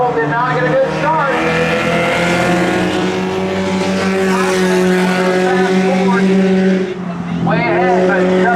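Spectator race cars launching off the line at New Smyrna Speedway, their engines holding a steady, loud droning roar that dips briefly near the end before rising again, with an announcer talking over it.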